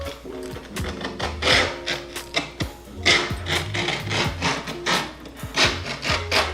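A blade trims skateboard grip tape, making rough scraping and rasping strokes in an irregular rhythm, close and fairly quiet with no voices.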